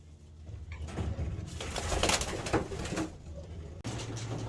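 Racing pigeons coo steadily inside a loft, a close, continuous low burbling chorus from several birds with no talking.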